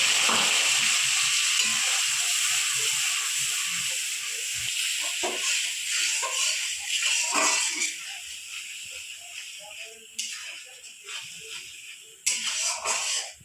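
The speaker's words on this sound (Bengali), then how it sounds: "এবার আমি আদা পেঁয়াজ রসুনটা তেলে দিয়ে দেবো" Ginger, onion and garlic hitting hot oil for a soybean and egg curry, a loud steady sizzle that gradually eases while stirring knocks and scrapes come through, with fresh bursts of hiss near the end.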